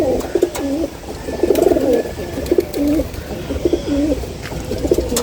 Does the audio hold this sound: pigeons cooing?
yes